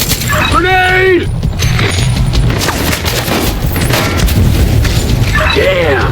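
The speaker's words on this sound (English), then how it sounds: "I saw you fire a grenade." Loud, dense combat din from The Division 2, with a heavy grenade blast and booming gunfire rolling continuously across the moment, rapid shots and debris crackle layered over a deep rumble, voices briefly rising over it.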